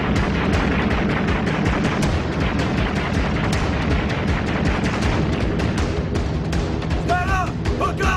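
D-Day battle effect of anti-aircraft fire and gunfire, loud and relentless: dense rapid bursts of shots and booms layered over a heavy rumble, with no pauses between them.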